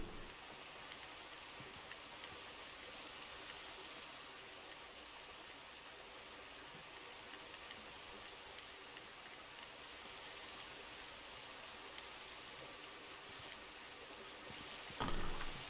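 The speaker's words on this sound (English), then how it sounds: "Oh, it's raining." Steady rain falls in a Minecraft world running the Thaumpack modpack, a continuous even hiss with no pauses, ending in a short louder burst at the very end.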